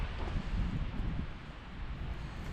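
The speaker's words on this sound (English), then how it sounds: "Might be a bit windy in here" Gusty wind buffets the microphone outdoors, a continuous low rumbling roar that surges and eases with no voices.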